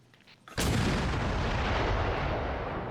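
A mortar fires in the video game Arma Reforger, set against the Vietcong on PS5, one sudden loud booming launch that rolls out into a long, slowly fading rumble.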